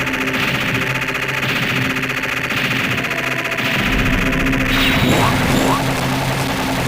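Rapid, steady heavy machine gun fire from the Metal Slug X arcade game, a dense continuous rattle sustained throughout with game effects and explosions layered in toward the end.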